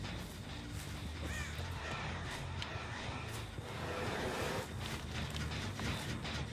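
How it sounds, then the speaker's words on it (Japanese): Crows caw in Dead by Daylight, their calls rising out of a constant dense wash of ambient game noise. Several cries come at moderate distance, without speech. "カラスが飛んでいる。"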